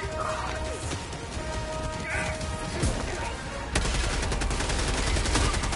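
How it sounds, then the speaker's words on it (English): Grenade blasts in the shooter game Helldivers 2, sharp bursts and crackling impacts over battle noise, with a harder, denser blast sequence in the second half. "Throwing grenades."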